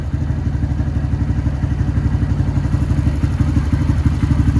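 A Honda Grom motorcycle engine idles steadily while warming up, a low rhythmic thumping putter that holds an even, continuous level throughout.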